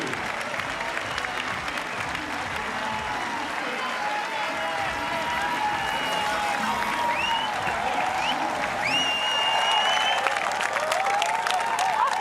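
Spectators line a triathlon course at the 2022 European Championships in Munich, applauding and cheering in a loud, continuous wash of claps and shouts. Occasional whistles rise above the crowd.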